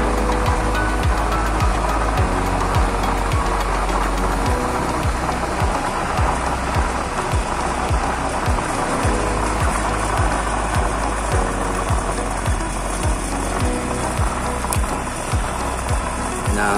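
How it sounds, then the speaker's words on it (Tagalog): Roaring gas burner nozzle, a 1.5-inch-tall nozzle in a 2-inch chamber, turned up to a strong blue flame; a loud, steady, broadband rush runs the whole time with no talk. "Buo na uli ang ating blue flame."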